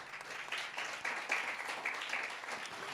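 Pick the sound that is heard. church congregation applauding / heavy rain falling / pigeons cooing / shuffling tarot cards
church congregation applauding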